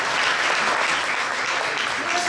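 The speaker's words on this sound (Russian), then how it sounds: "это еще раз достойно аплодисментов" An audience at an Abkhaz-Abazin diaspora gathering in Saint Petersburg applauds, a dense, even burst of clapping filling the room throughout.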